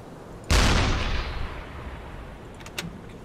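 A single heavy deck gun blast from a U-boat in the UBOAT submarine game, a sharp loud boom that rolls off into a long fading rumble, followed by faint clanks.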